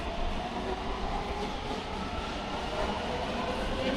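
A train in Taipei rumbles steadily along with a continuous broadband roar and faint clatter, no voices, holding an even loudness throughout.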